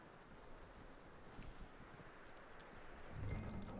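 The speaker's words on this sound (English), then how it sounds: "That looks like a decent horse. You should keep him." Horse hooves clip-clopping at a steady pace in Red Dead Redemption 2, a continuous patter of game footfalls that swells a little louder near the end, with no talk over it.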